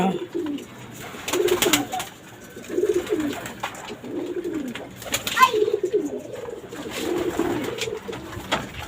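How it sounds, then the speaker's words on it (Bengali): Racing pigeons coo repeatedly in soft, throaty rounds, several birds close by, with a faint voice and light background movement between calls. "আবার এই যে উপরে রেসার কবুতর"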